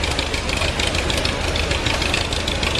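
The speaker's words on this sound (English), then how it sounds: "This is an 8-wheel drive tractor, developed 650 horsepower." A Big Roy Versatile 8-wheel drive prototype tractor with a 650 horsepower engine runs steadily, a dense, loud, close mechanical roar with rapid knocking pulses and no pauses.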